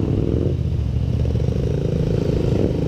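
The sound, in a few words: motorcycles revving at traffic lights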